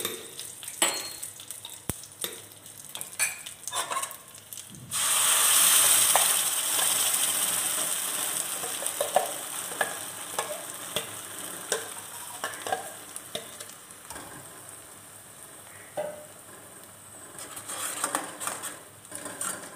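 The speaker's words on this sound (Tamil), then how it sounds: "ஏற்கனவே நம்ம செஞ்சிருக்க மசாலா அதை கலக்கணும்." Prepared masala fries in a pan for lima bean kulambu while a spoon stirs and scrapes it, bringing a close, steady sizzle that surges loudly for a few seconds and then settles into softer frying among repeated stirring scrapes.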